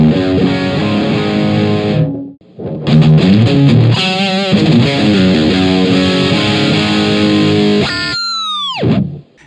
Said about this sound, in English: match the distortion tone to pretty much any amp